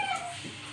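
A pet dog named Tank gives a brief, high whimpering yip, close and fairly quiet, over a noisy room.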